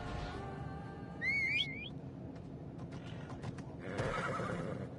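A horse in Assassin's Creed Odyssey answers a call with a clear whinny lasting about a second, over steady game ambience. A second, noisier burst follows near the end.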